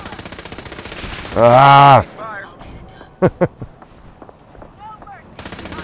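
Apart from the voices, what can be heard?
gunfire in the video game Fallout 4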